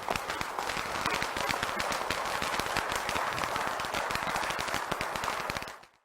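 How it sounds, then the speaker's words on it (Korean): A large audience at a religious blessing ceremony breaks into dense, sustained applause, a continuous roar of many hands clapping that holds steady for several seconds before quickly dying away. "박수를 들어 선대합니다"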